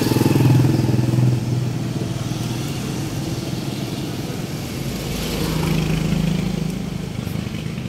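A Yamaha Aerox V1 scooter engine with an error 12 fault idles close by with a steady, buzzing putter, rising slightly in pitch partway through before settling again.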